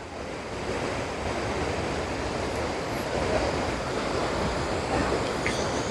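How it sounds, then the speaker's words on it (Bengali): Jog Falls waterfall pours down in a dense, steady roar of falling water, a constant broadband rush without breaks, heard from a viewpoint at some distance. "জলটা ঠিক এখান থেকে পড়ছে"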